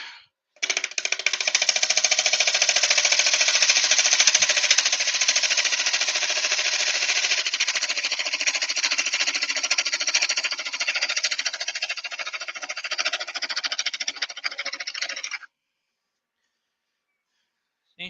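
A woodturning gouge cuts into spinning timber on a lathe, making one continuous loud, harsh rasping buzz for about fifteen seconds that fades slightly before stopping abruptly, close up with no talking.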